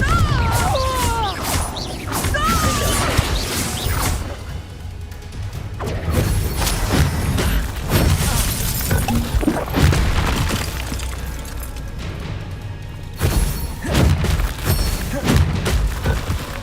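Repeated booming blasts and crashing impacts from the Bombarda explosion spell in Hogwarts Legacy, loud and layered over continuous battle noise with other spell effects throughout.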